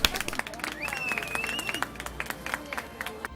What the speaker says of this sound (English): the crowd erupted.